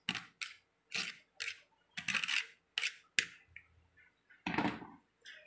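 Raw chicken being cut into cube-sized pieces for buttered chicken: a series of short, quiet, crisp cutting strokes in an uneven rhythm, each separated by near silence.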